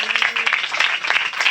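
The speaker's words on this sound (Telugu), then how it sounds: "ఇంకొకసారి గట్టిగా చప్పట్లు కొట్టండి" A church congregation at a Saturday worship service claps loudly and steadily in a dense, continuous burst of applause, with voices mixed in.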